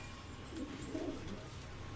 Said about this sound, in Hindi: भाई देखो ये कबूतर है अपने पास 135 कबूतर है भाइयों टोटल